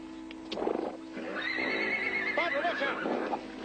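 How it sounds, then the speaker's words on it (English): A horse neighs loudly and close by, a long wavering whinny with rising and falling pitch, with some hoof and movement noise and faint voices in the background. "Idiot horse."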